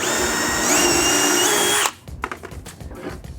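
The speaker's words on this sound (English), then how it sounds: "so you just drill that first hole." A power drill with a collared bit bores a shelf-pin hole through a jig into wood, a steady loud whine that stops abruptly, followed by a few light clunks and handling knocks.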